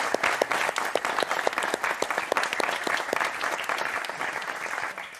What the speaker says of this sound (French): Allez, applaudissements à tous